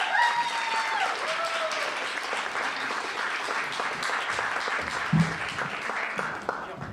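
Applause from the audience at a poetry slam in a city library, a dense, fairly close burst of many hands clapping that slowly thins out, with a voice briefly heard near the end.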